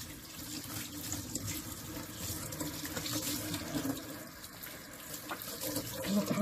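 Water runs steadily from a sink tap while hair dye is rinsed out, a continuous close splashing hiss with small shifts in flow and no speech.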